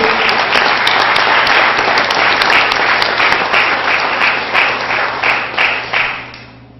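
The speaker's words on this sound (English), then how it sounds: "Thank you for your effort. We applaud you." Spelling bee audience claps for a contestant who misspelled a word, a loud full burst of applause that stays strong before tapering off near the end.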